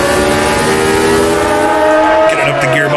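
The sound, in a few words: race car engine shifting gears in Automobilista 2 video game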